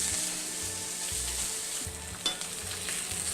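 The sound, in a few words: sockeye salmon fillets sizzling in hot oil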